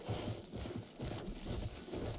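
Horse hooves clip-clopping in the World War I shooter Battlefield 1, a steady galloping rhythm of soft thuds that is fairly faint and surrounded by game ambience.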